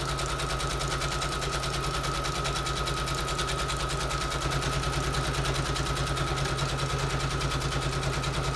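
A sewing machine stitching through paper pages runs steadily and close by, its rapid mechanical stitching chatter continuous throughout with a low motor hum underneath.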